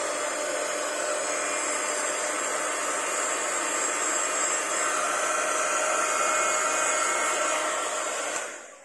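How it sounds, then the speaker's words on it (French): A heat gun blows steadily on a handmade paper Christmas slider card, a continuous loud airy roar with no talk, cutting off just before the end. "Si vous avez un heat gun ou un truc dans le genre comme ça,"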